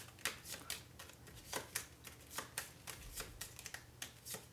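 Playing cards for the Undaunted Stalingrad board game are shuffled at a table in a quick run of crisp riffles and taps, close and fairly soft, with no talking.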